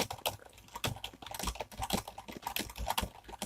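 Rapid typing on a computer keyboard, a quick irregular run of close, soft key clicks with no talk.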